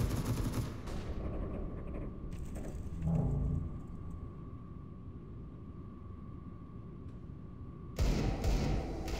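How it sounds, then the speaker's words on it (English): A flashbang grenade goes off in Counter-Strike during a 2018 London Major match: loud bursts at the start and end, with a steady high ringing tone and muffled game sounds between them. "Throwing flashbang. Deploying flashbang."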